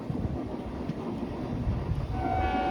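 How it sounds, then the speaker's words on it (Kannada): A Hubli Superfast train rumbles through Kengeri station, a steady low rolling roar under station ambience, with a sustained horn tone emerging near the end. "ಆ ಕಡೆ ಹುಬ್ಳಿ ಸೂಪರ್ ಫಾಸ್ಟ್ನ ಸೆಂಡಿಂಗ್ ಮಾಡಿದ್ದಾರೆ ಕೆಂಗೇರಿಯಲ್ಲಿ"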